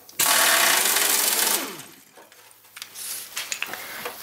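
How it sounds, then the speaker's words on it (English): Impact driver loosening a bolt on a Lotus Elan M100 front suspension, a loud harsh rattling burst lasting over a second that winds down, then scattered metallic clinks of tools and parts. "it's easy with an impact driver"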